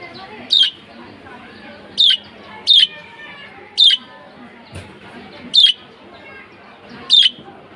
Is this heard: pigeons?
yes